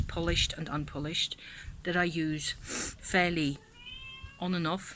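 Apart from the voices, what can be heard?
old cat meowing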